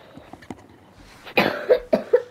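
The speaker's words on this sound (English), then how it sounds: "Another cough incoming." A person with a cold coughs several times in a row, close to the mic, a few small hacks building into harsher, louder coughs near the end.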